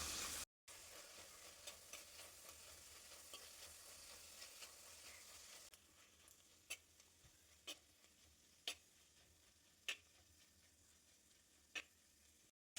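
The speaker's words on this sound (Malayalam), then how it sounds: "ഇനി നമുക്ക് ഈ ചെറിയുള്ളി ഒന്ന് വഴറ്റിയെടുക്കാം" Shallots sautéing in a pan for a Kerala prawn curry: a faint sizzle at first, then quieter with spaced scraping taps of a spoon stirring, no voices.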